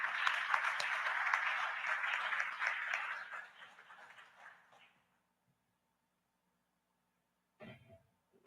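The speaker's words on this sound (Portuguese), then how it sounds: "Quantos podem aplaudir esse Deus?" A church congregation applauds during a service, a dense broadband clapping that fades away over about four seconds, followed by near silence and a brief noise near the end.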